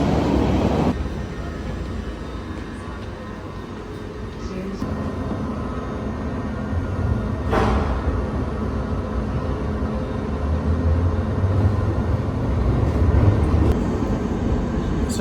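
A London Underground Piccadilly Line train pulls into Gillespie Road station, giving a continuous rumble and rattle with brief higher screeches, while a voice talks over it.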